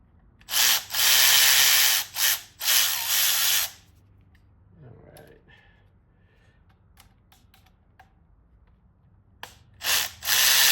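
Power tool removing T30 Torx screws from the cam cover of a VW MK7 Golf GTI EA888 Gen 3 engine, loud hissing whirring bursts of a few seconds each, separated by quieter gaps with small clicks and handling noises.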